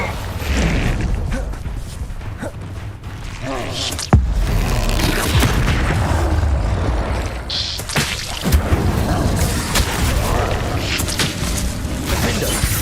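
A fiery Incendio spell blast in Hogwarts Legacy bursts with a sharp hit near four seconds, amid a dense wash of whooshes, booms and combat effects that fills the whole stretch, with voices heard in the fight.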